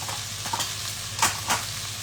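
Steady oily sizzle of a tadka for langar-style dal, with a couple of brief brighter crackles as dry spices and a pinch of salt drop into the hot fat; close and moderately loud, no voices.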